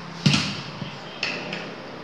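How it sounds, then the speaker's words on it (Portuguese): Volleyball spike sound effect: a sharp hand-on-ball smack followed by a second, lighter impact about a second later, fairly quiet over faint background noise. "Esse é o som do voleibol."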